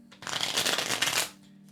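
Tarot cards being shuffled, a dense papery riffle and flutter lasting about a second, close and fairly loud, with a faint steady hum before and after.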